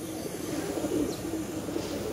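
Pigeons in a loft coo softly, low throaty murmuring calls that overlap continuously at close range, with no talking.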